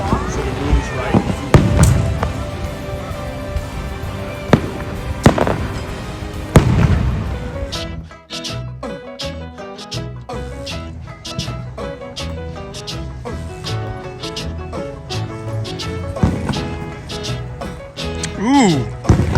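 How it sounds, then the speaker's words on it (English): Outdoor fireworks bursting over a Point Pleasant mini golf course at night, a rapid series of sharp pops and crackles in the second half, with people talking through the earlier part. "Fireworks are about to pop off."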